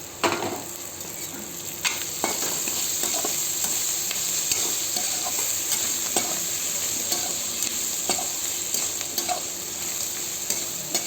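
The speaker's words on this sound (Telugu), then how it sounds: "ఎండుమిరపకాయలు పోపులో వేయడం మర్చిపోయాను, ఇప్పుడు వేసానండి." Dried red and green chillies sizzle in hot oil for tempering, a continuous bright frying hiss with scattered spatula scrapes and stirs across the whole stretch, no voices.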